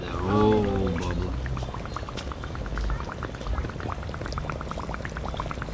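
Floodwater bubbling and gurgling steadily, with dense popping bubbles throughout and a brief voice at the start.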